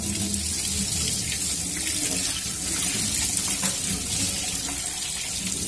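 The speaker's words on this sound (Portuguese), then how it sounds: "Vou lavar ela aqui debaixo da torneira." Tap water runs steadily into a kitchen sink as cooked fern shoots sit in a colander beneath it, a continuous close gushing rush with no pauses.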